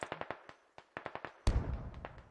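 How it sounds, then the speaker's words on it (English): Gunfire in the military shooter game Squad crackles as a burst of sharp, distant-sounding shots in an irregular rapid series, followed by a louder booming blast with rumbling tail and scattered further pops. "He hears the gunfire but doesn't go there."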